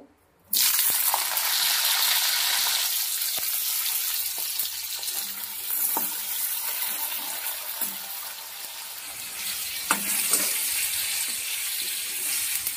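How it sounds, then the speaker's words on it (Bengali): Yardlong beans fry in hot oil for a chhyachra dish, a loud, dense crackling sizzle that starts abruptly and holds steady close by, with a few faint utensil taps and no speech. "এবার বরবটিটা ভেজে নেব।"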